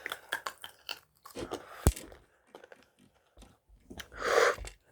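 Rock candy crunches between teeth in close, sharp cracks and bites, with one loud snap midway and softer chewing and mouth noises around it.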